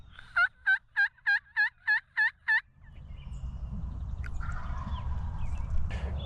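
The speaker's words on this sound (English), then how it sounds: "we just had like 3 or 4 gobbles right down here, maybe 150 to 200 yards away" Wild turkeys in Michigan woods gobble seven times in a quick, evenly spaced run, loud and carrying, before giving way to a steady outdoor rustle.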